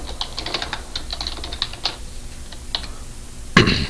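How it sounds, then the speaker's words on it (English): Computer keyboard typing while a tenant company name is entered into a property form: a run of quick, light, irregular key clicks in close succession, pausing briefly and ending with a louder clustered burst of keystrokes. "Then you could type in a tenant company name"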